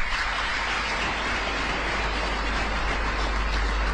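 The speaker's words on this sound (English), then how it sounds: "May we clap for them?" Continuous applause fills a large hall at an official state visit in Tanzania, a steady dense roar of many hands with a low rumble beneath, even in loudness throughout.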